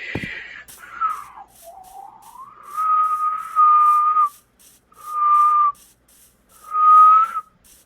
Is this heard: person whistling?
yes